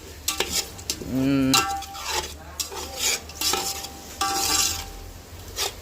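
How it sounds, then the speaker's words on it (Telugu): Makhana pulao ingredients tinted pink by beetroot being stirred in a pot, loud spoon scrapes and clinks against the metal over a low sizzle, in irregular bursts with a short hum partway through. "ఈ విధంగా ఇదన్నీ వేసుకొని బాగా కలిపేసుకుందాం"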